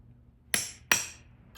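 Two sharp metallic taps about 0.4 s apart, each ringing briefly, struck on a seized screw on a 1979 Yamaha DT125 two-stroke motorcycle engine during crank seal work, close up in a quiet workshop.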